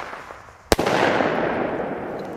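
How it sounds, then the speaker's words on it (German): A single Thunder Kong Max single-shot firework tube goes off with one sharp, loud bang, followed by a long, steady rumble and hiss that lingers to the end. "Hier haben wir Thunder Kong Max in der 18er Kiste bei uns im Shop stehen"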